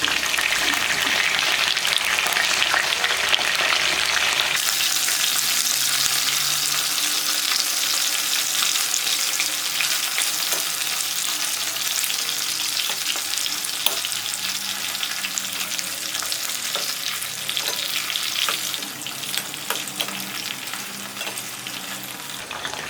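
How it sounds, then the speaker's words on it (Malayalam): Chicken pieces for chilli chicken frying in hot oil, with a loud, steady, close sizzle and crackle that runs throughout and drops slightly in intensity after a few seconds. Nobody speaks. "ഇനി ഇത് ചൂടായ എണ്ണയിലിട്ട് ഫ്രൈ ചെയ്തെടുക്കാം."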